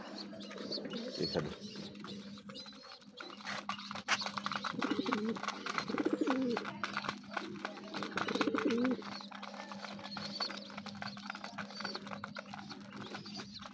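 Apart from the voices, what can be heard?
pigeons cooing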